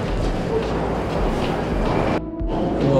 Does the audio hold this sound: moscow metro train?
yes